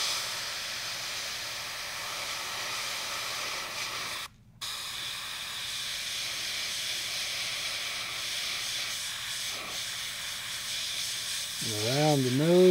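Airbrush hissing steadily as it sprays paint onto a largemouth bass fishing lure, working around the eye sockets, a continuous close airy spray with one brief pause.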